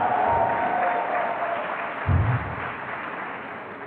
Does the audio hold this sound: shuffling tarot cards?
no